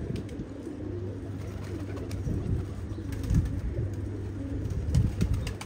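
Pigeons coo in a steady low rhythm close by, repeated throughout, with light rustling and the odd flutter in a bird-hunting setting; no one speaks.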